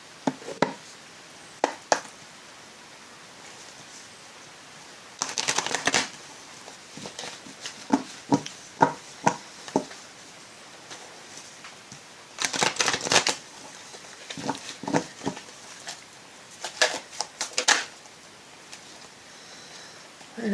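Oracle cards from the deck L'oracle de l'âme intuitive are shuffled by hand in several bursts of crisp riffling and slapping, close up, with separate taps and flicks between the bursts.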